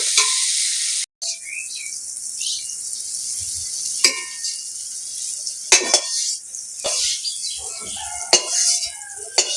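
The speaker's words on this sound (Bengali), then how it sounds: "এখন আমি কড়াইতে তেল দিয়ে দেবো চিংড়ি মাছগুলো ভেজে নেওয়ার জন্য।" Prawns fry in oil in a wok with a bright, hissing sizzle, broken by sharp scrapes and clinks of a utensil stirring and turning them.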